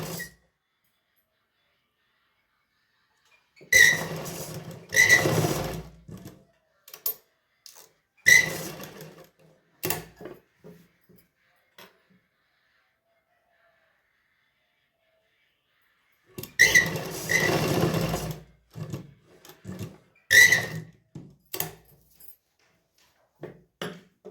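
A sewing machine stitching an old suit being remade, running in several short bursts of rapid mechanical chatter separated by stretches of near silence.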